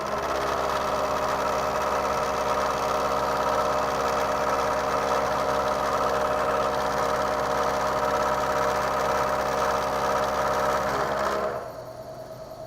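A milling machine runs steadily through a face milling cut that takes a workpiece down to size, with a loud, even mechanical drone and whine throughout. It stops abruptly near the end, leaving a quieter hum.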